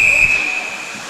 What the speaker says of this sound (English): Whistle is blown, play is stopped,